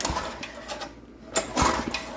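Pull-start rototiller engine with a worn, shortened starter rope being turned over, a few quick mechanical cranking bursts with a brief pause between, close and moderately loud.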